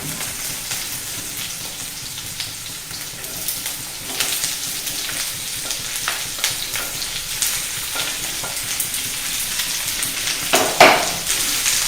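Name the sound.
onions sautéing in oil for masala dosa filling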